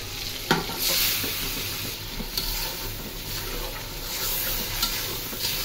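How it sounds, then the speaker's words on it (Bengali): Marinated stinging catfish fries with onion paste in a hot pan, giving a continuous close sizzle with occasional stirring scrapes and small clinks. "পেঁয়াজ বাটা তো দিয়ে দিচ্ছি সাথে। এখন মাখানো মাছটা দিয়ে দিই।"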